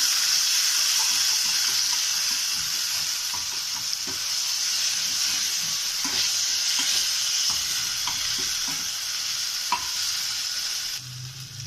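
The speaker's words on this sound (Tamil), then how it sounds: "இது நல்லா எண்ணெயில் கொஞ்சம் வேக விட்டுக்கிடுவோம். நல்லா கிண்டி விடுவோம்." Ginger paste frying in oil for a Tamil potato masala to go with poori, giving a steady close sizzle throughout, with soft scraping taps of a spoon stirring the pan and no voices.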